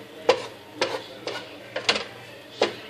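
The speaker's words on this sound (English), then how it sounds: "I'm going to turn this up a little bit so you guys can hear that amazing sizzle." Chicken fajitas with bell peppers cook on an IKEA GRILLA grill, a soft steady sizzle broken by about six sharp scraping clinks of a spatula stirring the food.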